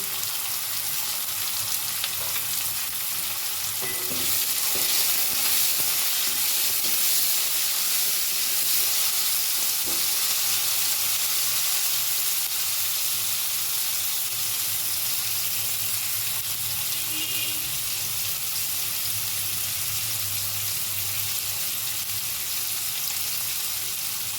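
Sliced potatoes browning in hot oil with salt and turmeric in a pan, a steady close sizzle and hiss running unbroken throughout with faint stirring scrapes now and then.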